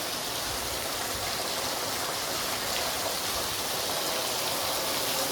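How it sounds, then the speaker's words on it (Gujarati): Dense, constant roar of heavy rain pouring down, loud and unbroken throughout with no voices. "વરસાદ તો જો આવે દોસ્તો આ કાંઈ જેમ તેમ વરસાદ છે"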